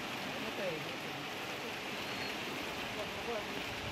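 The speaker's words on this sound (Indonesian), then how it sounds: "Hujan memang tidak hanya sekedar di lapak saja, tapi memang di lingkungan sekitar juga hujan turun." Steady rain falls around a pigeon loft in a pouring first downpour, a continuous broadband hiss with no breaks, fairly faint and even throughout.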